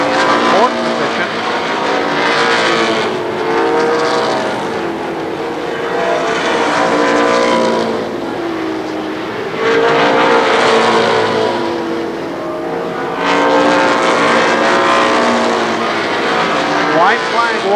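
NAMARS midget race cars roar around Columbus Motor Speedway on a last lap, several engines whining and rising in pitch as they pass close, loud and continuous, while an announcer talks over the noise.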